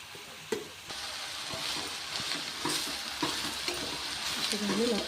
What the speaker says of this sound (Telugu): కొంచెం వేగడానికి టైం పడుతుందండి.